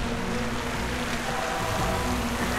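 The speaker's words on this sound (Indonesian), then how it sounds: "Sayangnya seketika hujan turun deres banget" Heavy rain pours steadily on Mount Lawu in a dense, continuous hiss with no voices.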